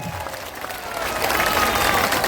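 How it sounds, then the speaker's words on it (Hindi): A crowd at a Jan Suraaj political rally claps together in a brief, steady burst, growing slightly louder toward the end, heard from the middle of the audience. "जोर से बजाइए ताली"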